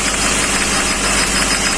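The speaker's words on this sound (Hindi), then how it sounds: "इसका इंजन नॉकिंग कर रहा है" Diesel engine of a Hyundai Xcent/Grand i10 running at around 2000 rpm with a knocking fault, a loud, steady, close mechanical rumble with a dense, rattling texture and no voices.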